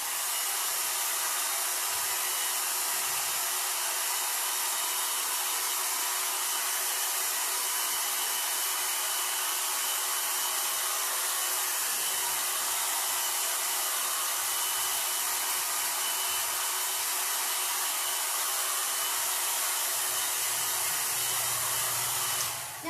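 A hair dryer drying acrylic paint on scrapers, a steady, loud airy roar that runs nonstop and unchanged from start to finish, with no talking.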